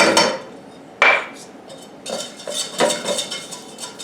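A butter and flour roux being stirred in a metal pot, close, sharp utensil scrapes and clanks against the pan with one loud knock, then a rhythmic series of softer scraping strokes, no voices.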